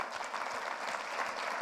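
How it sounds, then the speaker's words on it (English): A conference audience gives a brief round of applause for boot camp instructors at a fall summit, steady even clapping from a moderately sized crowd, heard at a distance. "Let's give them a round of applause."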